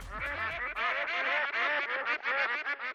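A rapid string of duck quacks stands in for a drum roll, dense and loud, running for about three seconds with no voices.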